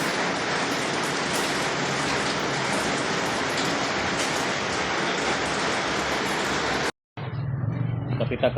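Steady, dense rain pouring down close by, a continuous hiss that cuts out briefly near the end before resuming more softly.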